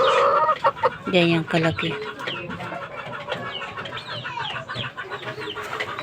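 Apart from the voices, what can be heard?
chickens with their new chicks clucking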